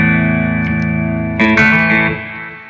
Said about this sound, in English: if you get a tap echo delay pedal by Walther, you're going to love it. They're so warm.